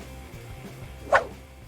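A street dog gives one sharp, short bark over a low background hum.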